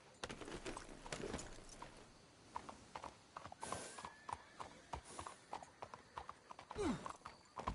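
Horse hooves clop steadily at a walking pace, and a horse whinnies briefly near the end, with game ambience behind, in Red Dead Redemption.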